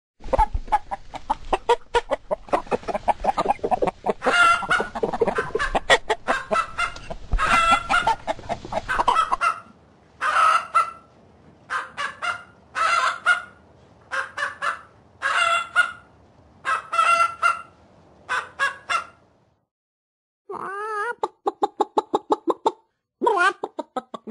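Chickens cluck in a run of short, loud repeated bursts while a rooster crows, the calls coming in quick clusters with brief gaps and a final burst of rapid clucking after a pause.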